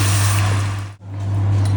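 A loud, steady stream of water pours over a cup of sugar in a pan for banana leaf halwa, briefly cutting off midway before the pour resumes.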